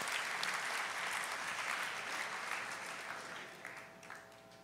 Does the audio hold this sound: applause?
yes